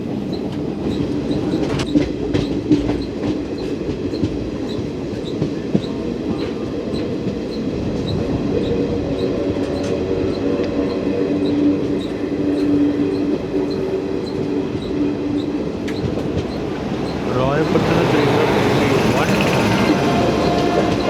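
The Pune Kanyakumari Express rumbles past with continuous wheel noise, rhythmic clickety-clack over rail joints and occasional squeals, growing louder near the end, with faint voices underneath.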